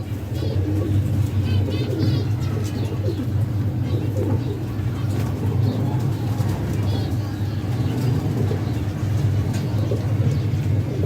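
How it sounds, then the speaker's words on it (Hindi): Hardy homing pigeons coo steadily and nearby, their low murmuring running continuously under a constant hum and some distant traffic noise. "अनथक कबूतर है ये"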